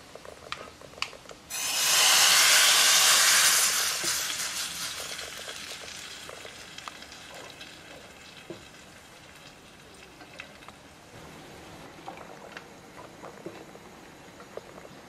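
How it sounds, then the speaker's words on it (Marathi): Hot tadka tempering poured onto Marwadi-style kadhi bursts into a loud, bright sizzle that swells suddenly, then fades into a softer crackling hiss with scattered pops and faint clinks. "हा जो आपला तडका तयार झाला आहे तो आपल्याला ह्या कढीवरती घालायचा आहे"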